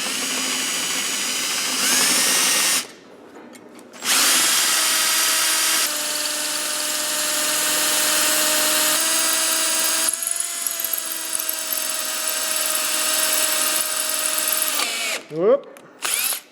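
A power drill whines steadily into metal while drilling out a 4L80E transmission part, its pitch shifting as the bit bites, with brief pauses and a short squeal near the end.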